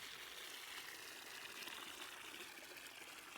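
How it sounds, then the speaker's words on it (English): Water gushes steadily into a watering can in the cozy garden game Wanderstop, a continuous broadband pour at close range with no pauses, heard alone. "Please to be filling it with water."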